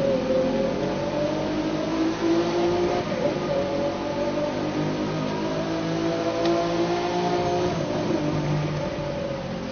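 A car engine in the racing game The Crew 2 drones and revs continuously, loud and close, its pitch rising and falling slightly throughout with no talk over it.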